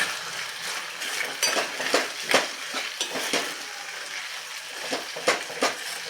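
A spoon stirs chilli paneer with sugar and vegetables in a pan, producing irregular scraping and clinking strokes close up over a low sizzle.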